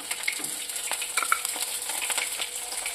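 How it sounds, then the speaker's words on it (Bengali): Food frying in a covered pan while making a Bengali taro-leaf (kochu shak) dish, a steady close sizzle and crackle with scattered pops and light stirring scrapes throughout. "এটা ঢাকা দিয়ে ভাজবো।"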